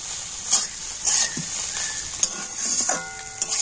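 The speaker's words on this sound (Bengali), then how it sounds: "অল্প একটু ম্যাগি মশলা দিয়ে আবারও কিন্তু সমস্ত খুব ভালোভাবে নাড়াচাড়া করে নেব" Homemade atta chowmein with Maggi masala is stirred in a hot pan, a spatula scraping and clinking in short repeated strokes over a steady sizzle, close up and with no talking.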